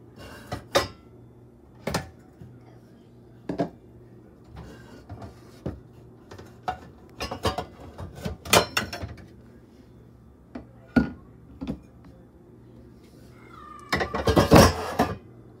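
Pan pulled from a kitchen cupboard, with a series of sharp metallic clanks and knocks spaced apart and a cluster of clattering near the end, close and fairly quiet.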